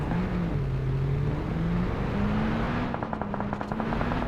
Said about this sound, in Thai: อ่ามีเสียงปืนด้วยครับ